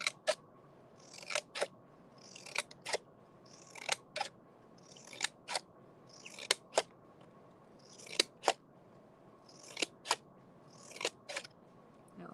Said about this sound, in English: just going to make little snips